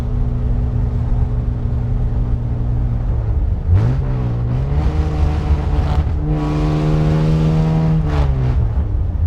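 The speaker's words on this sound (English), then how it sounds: "Kind of getting used to the raspiness of the exhaust" A 1952 Jaguar XK120 fixed-head coupe's raspy exhaust drones steadily, then the engine revs up and climbs through the gears, growling loud and close without any talking.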